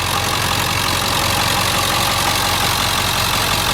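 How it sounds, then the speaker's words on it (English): A 1999 Ford F350 Super Duty Power Stroke diesel V8 with a 3-inch exhaust idles loudly and steadily nearby, with a constant low rumble and a clattering knock running throughout. "Power stroke diesel V8."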